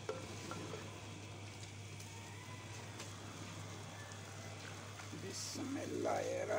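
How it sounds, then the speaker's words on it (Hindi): Fresh pumpkin dropped into meat frying in oil in a pot for a bottle gourd meat curry, giving a faint, steady sizzle that swells into a louder rustling hiss near the end. "अब इसमें कद्दू डालते हैं"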